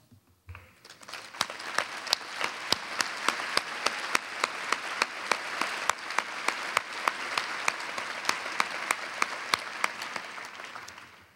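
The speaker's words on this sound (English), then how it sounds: "can you stand up so we can give you a round of applause?" Steady, sustained applause from a large plenary audience at a national Main Street conference honours board members and volunteers, many hands clapping evenly with sharp individual claps standing out, with no talk.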